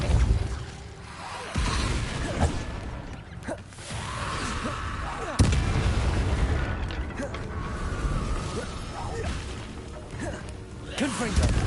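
Spell blasts crack and boom in Hogwarts Legacy combat, loud bursts and whooshing impacts arriving in quick irregular succession, with a voice calling out over the clashing effects.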